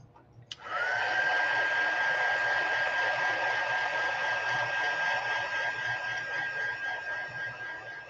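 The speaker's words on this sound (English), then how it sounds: "I'm going to hit this with the dryer real quick." A hair dryer switches on with a click and blows steadily with a constant whine and airy rush for several seconds.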